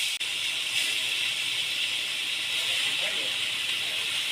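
Boiled vegetables hit hot oil tempered with five-spice and cumin, giving a steady, close hiss of sizzling that holds evenly throughout.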